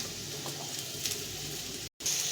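Chunks of elephant foot yam and potato fry in hot oil with a steady, even sizzle that cuts out once for a moment and then returns close and loud.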